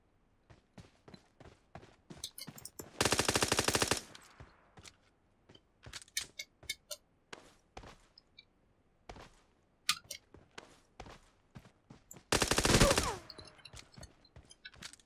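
Pistol fire in a video game comes as many sharp, scattered single shots of varying loudness, broken by two longer bursts of rapid fire.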